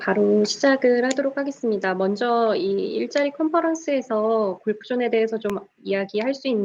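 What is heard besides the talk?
No distinct noise like a dog, phone or traffic.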